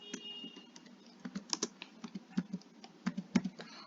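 Keys on a computer keyboard click in a quick, irregular burst of close, crisp taps, with no talking over them.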